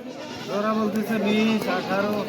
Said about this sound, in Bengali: প্রিয় দর্শক, ছাগলগুলো দেখেন